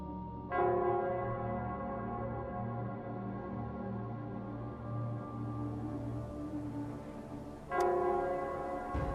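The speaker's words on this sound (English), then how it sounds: "it's the Nell Squares bell" A deep, resonant bell tolls in the Nell Squares of Wuthering Waves, one long humming strike ringing out and decaying, then a second strike near the end, with no talking over it.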